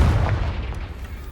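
A Confringo spell blast from the Hogwarts Legacy video game: a single low, rumbling boom that hits loud at once and then slowly fades over a little more than a second, with no talking.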